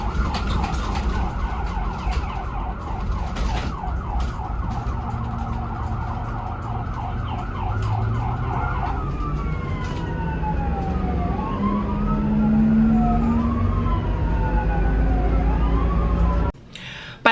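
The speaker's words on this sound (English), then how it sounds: "lights and sirens." An ambulance siren wails close by, first in a fast repeating yelp, then in slower sweeping wails, over road rumble from the vehicle as it runs to a medical call. It cuts off abruptly just before the end.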